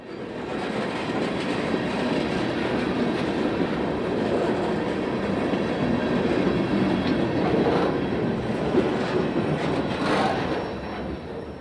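A CSX freight train of ethanol tank cars rolls past on the B&OCT line, a loud, continuous rumble with clickety-clack wheel noise and faint squeals throughout, no talk.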